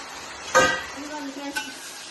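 Tomato, brinjal and pumpkin pieces dropped into hot oil for pumpkin pulusu, a sharp burst of sizzle and stirring followed by a softer crackle and a second small clatter.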